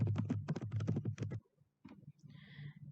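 Fast, close keystrokes rattle on a computer keyboard in a quick burst of typing, then stop; after a short pause a few softer clicks and faint noise follow.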